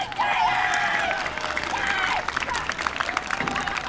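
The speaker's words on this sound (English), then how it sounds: "how about one more round of applause for the senior member of the Raven Regiment" Crowd applause and cheering at a high school football game, a dense wash of clapping with shouts rising over it, fading slightly then continuing with scattered claps and calls.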